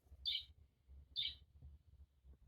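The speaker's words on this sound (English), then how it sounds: "And the songbirds chirping." Two short, bright songbird chirps from a children's farm sound book sound about a second apart over a faint low hum.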